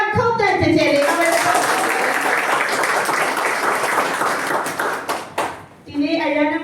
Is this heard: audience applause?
yes